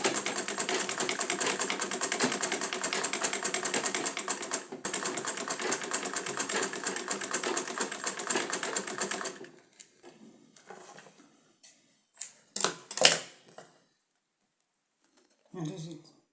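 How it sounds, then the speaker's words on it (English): A sewing machine runs steadily while top stitching a simple ladies' purse, its dense mechanical hum lasting about nine seconds before stopping, followed by a few scattered soft clicks and handling noises. "To secure it, you top stitch."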